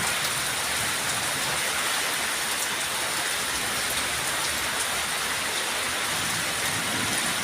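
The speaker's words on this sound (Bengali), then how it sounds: "প্রচণ্ড বৃষ্টি হইতেছে এবং বিদ্যুৎ চমকাইতেছে" Dense, steady roar of heavy rain pouring down and drumming on surfaces during a lightning storm, constant and loud throughout with no voices.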